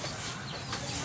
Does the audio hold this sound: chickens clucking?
yes